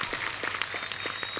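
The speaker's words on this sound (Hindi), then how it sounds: "जोरदार तालियां हमारे तमाम दर्शकों के लिए" An audience at a televised music show applauding, a dense, even wash of clapping with a few distinct claps standing out, moderately loud and continuous.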